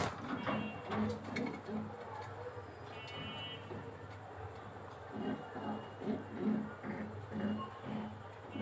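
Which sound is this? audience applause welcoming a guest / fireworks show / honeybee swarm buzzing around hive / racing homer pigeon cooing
racing homer pigeon cooing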